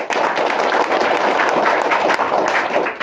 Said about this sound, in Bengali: যুবকরা তালি মারো